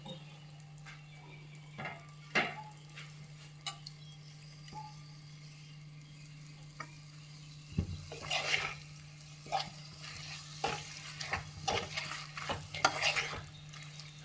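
Large tomatoes fry in a pot for mutton biryani as a spoon stirs them, giving soft scrapes and clatters over a steady low hum, with busier stirring in the second half; fairly quiet and without speech.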